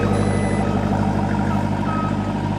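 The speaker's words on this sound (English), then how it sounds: "It'll beep at you to get out of the way." Power liftgate on a 2018 Jeep Grand Cherokee Trackhawk sounds its warning as it closes, a steady repeating electronic beep over a constant low engine hum.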